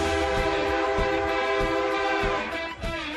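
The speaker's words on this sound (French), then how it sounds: "C'est un klaxon qui à l'origine équipait un camion." A large truck air horn fitted to a hot rod pickup blares in one long, loud, rich tone that holds for about three seconds before dipping briefly at the end.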